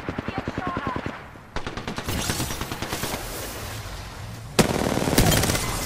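Rapid automatic gunfire in a shooter video game, sustained bursts of fast rhythmic shots throughout, loud and close, with someone urgently talking over the shooting.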